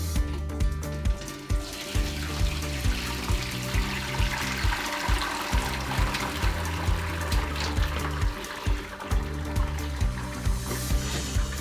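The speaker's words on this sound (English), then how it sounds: "Pour in all of this stock into there" Homemade chicken stock pours through a strainer into a saucepan, a steady continuous splashing and gurgling of liquid, close and fairly loud, with no talk.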